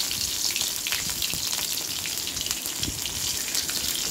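Fenugreek seeds crackling in hot oil for tempering a Bengali shukto, a steady dense sizzle with faint fizzing pops running throughout at close range, no talk.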